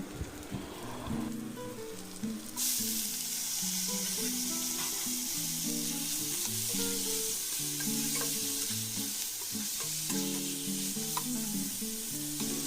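Ginger fries in a pan for Chettinad chicken gravy, a loud, dense sizzle that surges after a couple of seconds and holds steady, with faint stirring knocks beneath.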